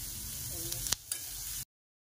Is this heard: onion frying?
yes